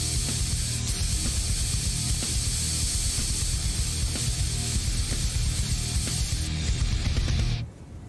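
A continuous, loud spray-can hiss tags a billboard in Tony Hawk's Underground 2, running steadily for several seconds before cutting off abruptly.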